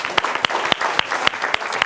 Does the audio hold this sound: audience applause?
yes